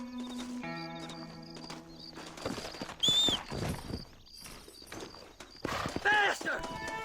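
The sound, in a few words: horses galloping, hooves clip-clopping, from the video game Red Dead Redemption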